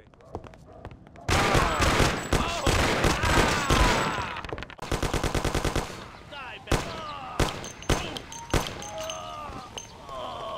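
Gunfire in the Mafia video game: sustained bursts of automatic fire, then a series of separate tapped single shots with short gaps between them, loud and close.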